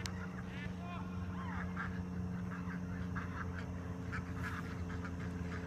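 Faint duck quacks scattered over a steady low mechanical hum, with a few soft calls near the start and later on.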